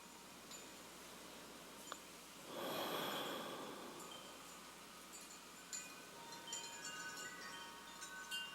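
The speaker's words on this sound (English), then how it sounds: "Two more long exhales." A long, breathy exhale during a yoga breathing practice swells up and slowly fades, standing alone in a quiet room with faint background hiss around it.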